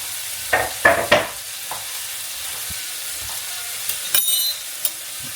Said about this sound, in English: That butter in there. Get it going. Get our steaks going.